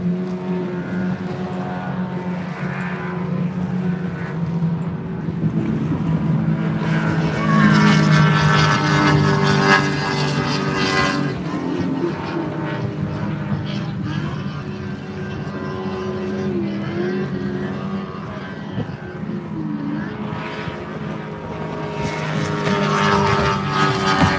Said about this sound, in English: that bright pink Banshee 595 boat out there, absolutely streaming along